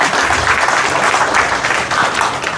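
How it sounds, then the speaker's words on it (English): An audience applauds a guest speaker, Miss Fatou Bintou Sala, at a women's gathering: steady, dense clapping from many hands that holds at an even level throughout, with no voices on top. "A round of applause for her, please."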